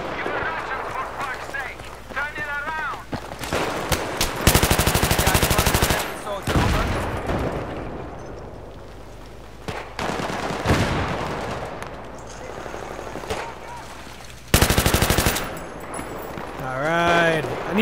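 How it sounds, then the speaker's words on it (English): Automatic M249 machine-gun bursts and scattered gunfire in a Battlefield 3 deathmatch on the Bazaar map, loud repeated fire in several clusters over game noise, with someone talking at points. "Got a lot of people shooting at me right now."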